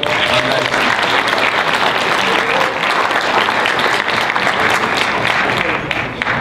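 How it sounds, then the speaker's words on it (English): A loud, sustained round of audience applause at a university debate final, thick continuous clapping that fills the room from start to finish and tapers only slightly at the very end. "let's have a round of applause for all of those people"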